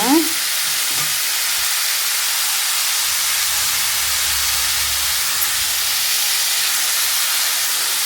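Pumpkin pieces frying in hot oil in a pan, a steady broadband sizzle that holds evenly for the whole stretch, with a faint low rumble in the background.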